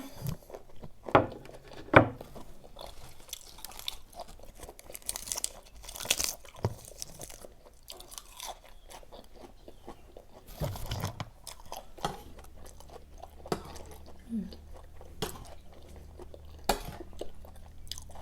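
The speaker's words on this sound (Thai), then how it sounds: "แต่แบบตัวมันใหญ่ มันเคี้ยวไม่ค่อยขาดอะเนาะ" Someone chews large raw jumbo shrimp in a fiery Thai salad, with wet crunching and biting bursts spread irregularly across the stretch, close to the microphone and mostly without talk.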